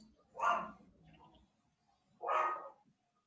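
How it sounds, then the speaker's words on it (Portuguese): A dog inside a house barks twice, about two seconds apart. Each bark is short and moderately close, with quiet gaps and no voices. "Tem um cachorro nessa casa, gente."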